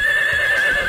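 Horse-like neigh of a zebra in a wild animal sports video game, a loud wavering whinny lasting about a second with no talk over it.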